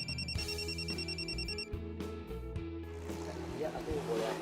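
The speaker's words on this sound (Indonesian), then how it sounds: "aku boleh angkat telepon bentar." A telephone ringing in a repeating electronic pattern within a TV drama scene set at a food truck, layered over a dense musical or ambient backdrop at fairly constant loudness.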